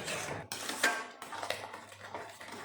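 A spoon stirs and scrapes a pot of sour fruit jam cooking with sugar, producing soft irregular clinks and scraping taps, close and fairly quiet.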